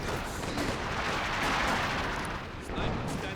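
Company of Heroes 2 battle in a 2v2 match, with infantry charging through the center under sniper and weapon fire: a dense, continuous wash of gunfire and explosive rumble throughout, loud and unbroken.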